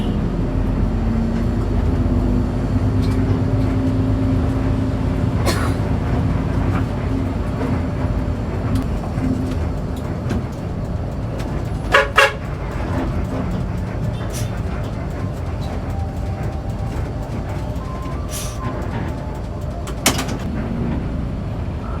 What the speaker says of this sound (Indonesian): Malesnya kalau naik bus pulang kerja di hari Jumat itu ya begini nih, macet banget